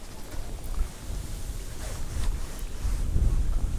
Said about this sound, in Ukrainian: Але зараз такий вітер